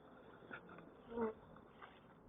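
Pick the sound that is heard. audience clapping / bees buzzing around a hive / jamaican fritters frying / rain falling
bees buzzing around a hive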